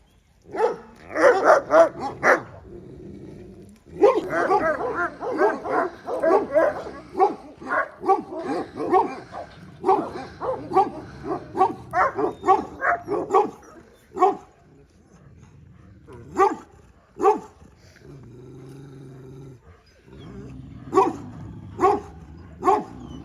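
Black dog barking in repeated bursts, loud and close, with some whimpering and yips between the barks and a short quieter gap partway through.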